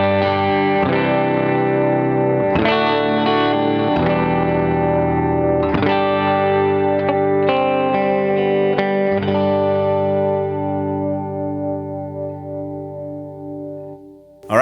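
Clean electric guitar on the middle pickup through a MESA CabClone cabinet simulator plays strummed chords and ringing notes, bright and full, letting the last chord sustain and slowly fade.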